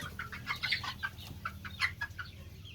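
Mixed-breed chickens, a cross of native Thai fowl with bantam, golden Taphao and jungle fowl, cluck in a quick irregular series of short calls, moderately close and fairly soft over a low background hum.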